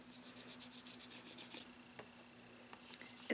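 An ink dauber rubbed back and forth over a decorative stencil mask on paper, soft quick scuffing strokes close by, fading into a few light taps near the end.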